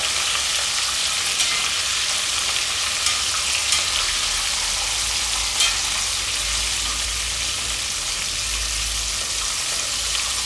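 Shrimp sizzle and fry in very hot oil for Cantonese salt and pepper prawns, a steady loud crackling hiss that fills the whole stretch with no voices.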